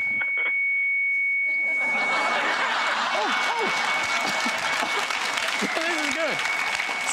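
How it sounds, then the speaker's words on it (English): Modem-like tones on a payphone line: a steady high beep holds through, then a loud burst of screeching, hissing data noise sweeps in and continues, with a few chirping glides underneath. "it's gone into some sort of modem thing"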